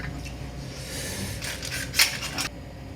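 A spoon clinks against dishes at a table with sago soup, a few light metallic taps and scrapes over a low steady hum, one brighter clink standing out near the end.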